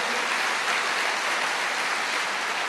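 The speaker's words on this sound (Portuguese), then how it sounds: "Pode aplaudir ao Senhor." A church congregation applauds, a dense, even wash of clapping that holds at a steady level throughout without a break.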